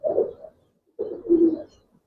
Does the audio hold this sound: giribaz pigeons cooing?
yes